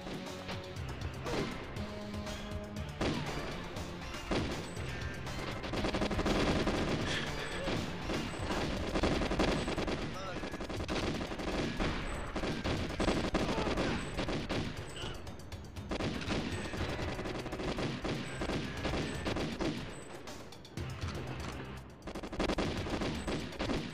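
Rapid gunfire and machine-gun bursts from the GoldenEye 64 HD video game, a dense continuous barrage of shots with crashes and mechanical clatter filling the whole stretch.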